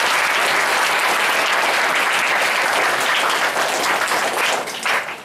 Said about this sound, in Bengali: প্রথমে আমি তাদের জন্য একটা হাততালি দিতে বলবো।